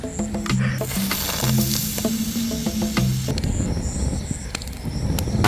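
An egg frying in a pan over an open wood fire outdoors, with a steady broadband sizzle and hiss running throughout, joined by intermittent tonal clinks and faint rustling, fairly loud and close.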